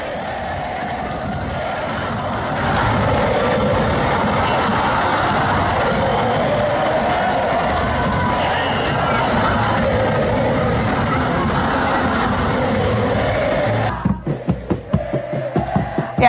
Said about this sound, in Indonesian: sorak-sorai penonton riuh bergema